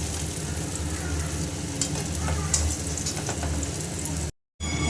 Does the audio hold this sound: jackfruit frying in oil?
yes